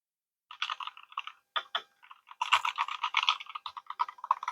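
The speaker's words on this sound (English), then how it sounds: "So we're going to give you a quick little typing test." Rapid clicky keystrokes on a Royal Kludge RK61 Pro mechanical keyboard, heard close and alone in uneven bursts after a short silence, like a quick typing test.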